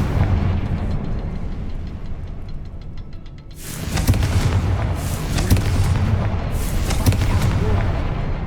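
Fiery Confringo spell blasts erupt in Hogwarts Legacy, a heavy booming burst that breaks in around the middle and keeps rumbling with repeated crackling impacts over low game ambience.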